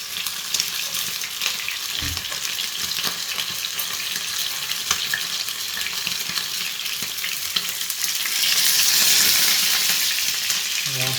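Fish fillets frying in a pan of oil, a steady loud close sizzle throughout that swells briefly louder near the end as the pieces are turned over.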